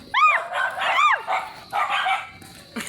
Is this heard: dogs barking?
yes